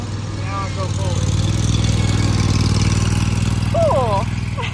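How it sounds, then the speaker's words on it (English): Zero-turn lawn mower engine runs steadily as it drives forward, a close mid-pitched drone held throughout while people talk over it. "cái chiếc này nè là người ta gọi là zero turn"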